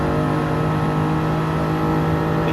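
A Gr.3 GR Supra in Gran Turismo 7 accelerates out of a chicane at Dragon Trail Seaside, its engine roaring loud and steady with a strong tonal drone building under throttle, heard alone.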